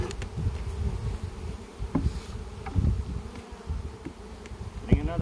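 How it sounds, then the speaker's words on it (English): Honey bees fly around an open hive at midday while frames of brood and honey are moved, a close, continuous buzzing drone with individual bees passing near, no talking. "A lot of the bees are out flying."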